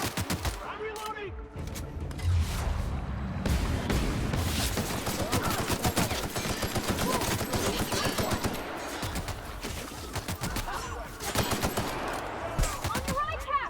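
Dense, continuous gunfire in a battle from The Outer Worlds video game, rapid bursts and overlapping shots filling the scene, with voices shouting over the combat.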